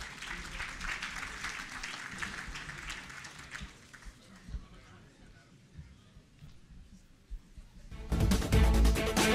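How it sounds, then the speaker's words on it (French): An audience at a panel session on economic crisis breaks into broad, steady applause that fades to a murmur, then a loud, dense burst of sound rises at the end. "Sous vos applaudissements."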